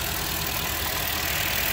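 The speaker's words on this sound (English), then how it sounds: "Hopefully you can hear the engine misfiring." A car engine idles with a misfiring cylinder, a steady close mechanical rumble with a faint uneven pulsing running through it, heard alone over a short stretch.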